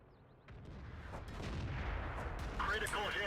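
Artillery gun firing in World of Tanks, a low booming shot that swells and rolls on under ambient battle noise, with a faint voice audible.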